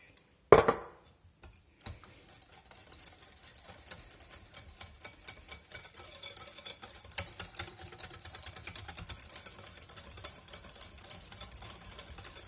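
Pear cake batter being mixed in a bowl, a spoon or whisk clinking against the sides in a quick, steady rhythm that keeps going after a sharp knock near the start.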